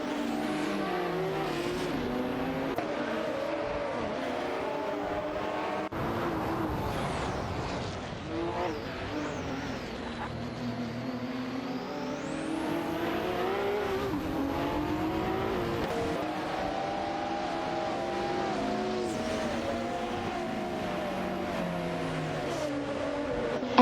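Race cars in an AI racing video game howl past with rising and falling engine whines and revving. The sound is continuous and layered, with several cars shifting pitch as they accelerate and pass, and no voices.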